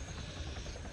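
Steady rotor drone of a helicopter, a continuous low thrumming roar that holds even throughout, fairly close and fairly loud, with no voices.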